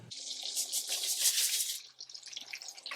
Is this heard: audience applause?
no